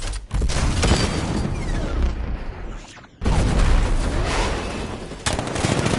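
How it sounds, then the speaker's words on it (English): Heavy booming tank cannon fire in Batman: Arkham Knight on PS5, with dense rumbling blasts and crackling debris, loud and continuous, briefly dropping off before another blast resumes. ".60mm cannon operational."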